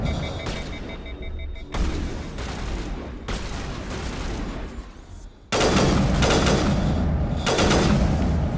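Heavy gunfire in Mass Effect, with sustained automatic bursts and booming shots, loud and close, intensifying toward the end with no talking.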